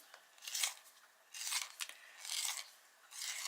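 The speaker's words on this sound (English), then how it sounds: "I've left the lead behind in the sharpener." Pencil sharpener grinding a short pencil, three or four close, quiet rasping bursts of turning with brief pauses between them.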